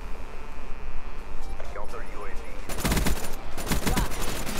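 FFAR assault rifle in a Black Ops game fires in rapid automatic bursts, loud crackling volleys, while a voice talks over the gunfire.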